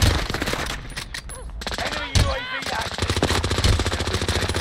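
Rapid automatic gunfire from the video game Warzone on Rebirth Island rattles in dense bursts, loud and continuous with a short pause, while players talk over it.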